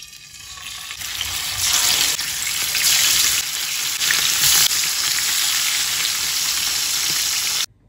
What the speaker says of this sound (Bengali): মাছটা আর বেগুনটা ভেজে নেই।